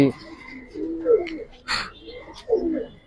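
Pigeons cooing in a loft of Giribaz and colouring pigeons, with several close rounded coos in short bursts alongside a brief sharp flutter or scrape, and someone talking nearby.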